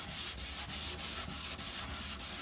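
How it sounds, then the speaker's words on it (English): Body filler being sanded on a Jeep Patriot, a steady back-and-forth rasp in even rhythmic strokes, about eight passes, close and loud with no talking. "I'll sand that ridge away until the black disappears."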